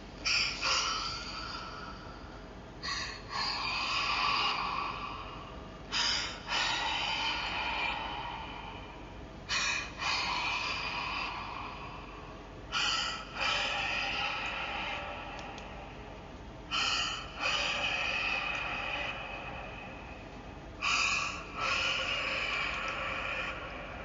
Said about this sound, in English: The heavy breathing sounded like a younger girl, and she sounded very unpleasant.